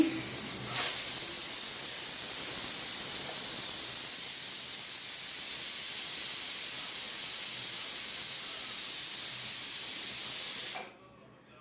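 A pressure cooker on a home stove lets out a loud, steady hiss of escaping steam that holds for about ten seconds, then cuts off abruptly, leaving near silence.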